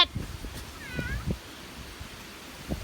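A cat gives a short meow in the middle, close and fairly soft, amid scattered quiet rustles and handling noises.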